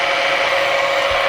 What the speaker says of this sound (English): we're drilling a second hole